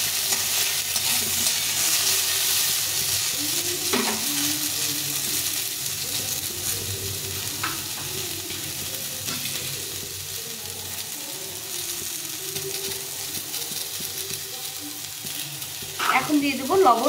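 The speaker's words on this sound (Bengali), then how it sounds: "এখন মূলোগুলো দিয়ে দিব। এগুলোকে একটু ভেজে দেবো হালকা করে।" Radishes lightly frying in oil in a pan, giving a dense steady sizzle with occasional stirring clinks, close up, and a few louder knocks near the end.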